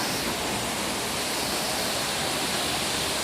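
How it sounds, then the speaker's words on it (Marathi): A waterfall at Gadad rushes down from a hilltop in a loud, constant roar of white water, steady and close with no breaks. "हा धबधबा बघा सोसत आहे"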